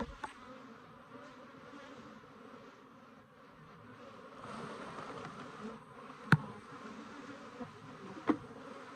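Italian/Africanized hybrid Cordovan F2 honeybees drone steadily around an open beehive, a dense continuous buzz with a couple of sharp knocks from handling frames.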